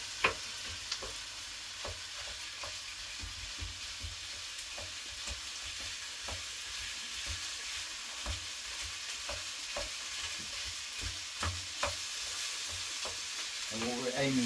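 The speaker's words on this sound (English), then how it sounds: "So I'll just break up that" Minced meat browning in a pan with celery, onion and carrot, sizzling quietly and steadily while a utensil breaks it up with repeated scraping strokes. No voices.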